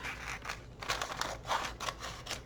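A package being snipped open with scissors: several quick close cutting strokes with crisp crinkling of the wrapping between them.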